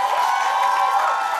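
A studio audience claps and cheers as a guest leaves the stage, forming a steady, dense wash of applause with no speech over it.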